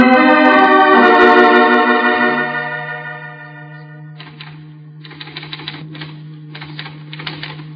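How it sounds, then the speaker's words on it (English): A typewriter in use, a sustained tone fading at first, then rapid clattering bursts of keystrokes in several separate runs over a steady low hum, close and loud. "Well, I'm just typing."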